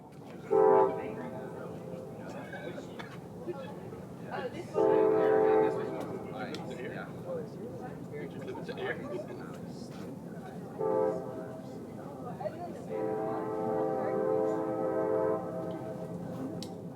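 A southbound CSX freight train sounds its horn in several loud blasts of varying length as it pulls away from a rail yard, with someone talking in between.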